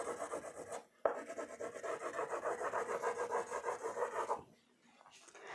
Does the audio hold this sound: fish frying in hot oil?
no